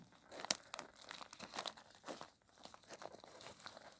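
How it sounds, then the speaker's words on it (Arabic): A plastic bag of iron sulfate fertilizer is torn open, giving quiet, irregular crinkling and crackling with a few sharper tearing bursts, close by. "هنفتح الكيس ده"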